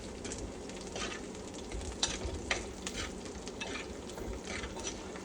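Slit green chillies fry in hot oil for a dhaba-style dal tadka, giving a steady, close, crackling sizzle with occasional stirring scrapes and pops.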